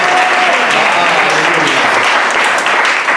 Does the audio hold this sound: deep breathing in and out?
no